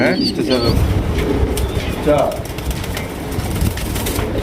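Pigeons coo softly in the background while people talk over them, with occasional brief chirps and rustling.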